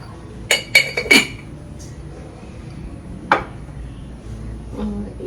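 Glass jars being handled in a home kitchen clink sharply three or four times in quick succession, then once more after a pause, close and bright against a quiet room hum.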